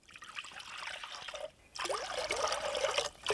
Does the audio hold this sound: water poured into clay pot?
yes